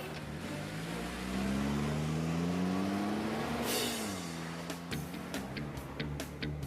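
A cartoon car engine hums and revs as the vehicle drives along, its pitch climbing smoothly and then settling, followed by a few light ticking clicks.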